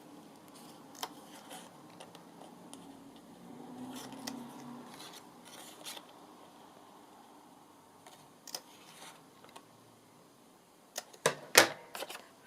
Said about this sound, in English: I'm going to snip the corners on this little piece